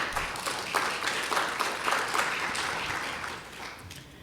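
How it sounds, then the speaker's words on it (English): An event audience breaks into applause at a human trafficking awareness gathering, moderately loud clapping from a crowd that holds steady and then gradually thins out toward the end. "We can clap about that."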